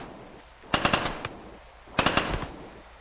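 Gunfire in the RimWorld video game: two quick bursts of sharp, rapid shots about a second apart, loud and close with no talk over them.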